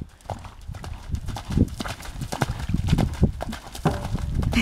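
Horse hooves clip-clop at a jog in a steady, fairly close rhythm, with faint rider sounds in the background.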